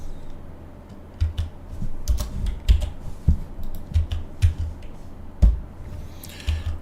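A computer keyboard is typed on during web form practice, with keys including the tab key pressed. Sharp, close clicks come in uneven bursts and single taps over a low background hum, with no talk.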